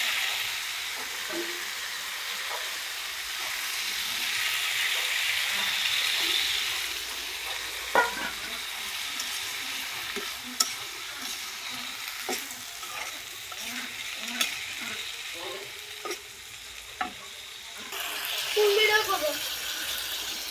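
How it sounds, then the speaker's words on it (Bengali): Hilsa fish curry with beans and potatoes being sautéed in a pan over a gas flame, with a steady sizzle under repeated clinks and scrapes of a stirring spoon, close and moderately loud. "এই আমাদের তরকারি কষানো হয়ে গেছে"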